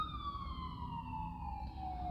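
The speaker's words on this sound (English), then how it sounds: "I said the cases are up and then the ambulance rides by." An ambulance siren passes by in the street, one steady wailing tone that slowly drops in pitch as it moves away over a low rumble of traffic.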